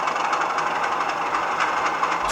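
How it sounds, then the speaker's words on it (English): Steady, close chugging of a Bachmann Class 37 model locomotive in Colas livery, its sound-fitted Spirax valves popping in quick irregular bursts over a continuous engine drone, with no talk. "There's lots of other little functions on there, like the Spirax valves you can hear popping away"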